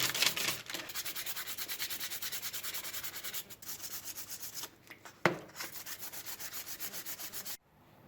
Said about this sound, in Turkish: Şimdi 220'lik zımparayla başlayalım.